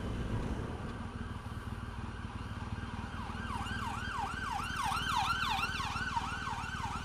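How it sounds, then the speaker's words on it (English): An ambulance siren wails in a rising and falling pattern, growing louder as it approaches over a steady rumble of road traffic. "there's an ambulance"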